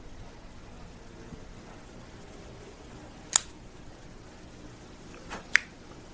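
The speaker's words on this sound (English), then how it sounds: "Let's go ahead and give it a cut and test out the cold draw." A cutter snips the cap of a Joya de Nicaragua Antaño 1970 cigar: two short, crisp clicks a couple of seconds apart, close by, in a quiet room with no talking.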